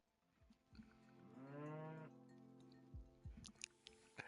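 A cow in the RimWorld video game gives one drawn-out moo in the middle, fairly clear, surrounded by quiet clicks and soft game sounds.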